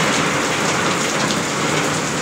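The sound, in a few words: heavy rain during a typhoon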